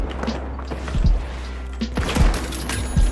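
Heavy sniper rifle shots boom over a constant noisy game soundscape in THE FINALS, roughly three spaced shots with thuds and rumbling background effects.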